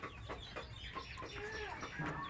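Local desi chickens cluck in a steady scatter of short calls, close and moderately loud, with no talk over them.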